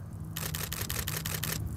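Rapid burst of about seven camera shutter clicks from a single-lens reflex camera set to 1/60 second, photographing flowers in the rain; crisp, evenly spaced and close, over a steady low background hum.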